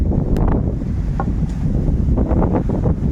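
Strong, gusty wind roars and buffets the microphone with a loud, rumbling rush that never lets up.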